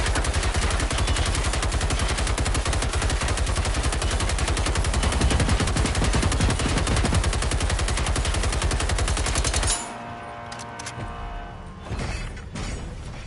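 A machine gun in Generation Zero fires a long, loud, rapid unbroken burst for about ten seconds, then stops, leaving quieter clanks and scattered noises.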